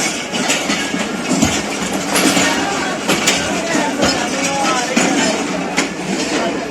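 Pakistan Express passenger train rolling into Faisalabad railway station, a steady broadband rumble of carriages with repeated clickety-clack wheel hits on the rails, close and loud, with a voice speaking briefly over the noise.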